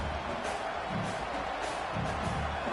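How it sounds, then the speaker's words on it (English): Home crowd at an Indiana vs Clemson football game, a steady broad roar of cheering filling the stadium, with a commentator's voice faintly underneath. "this home crowd getting involved right from the start"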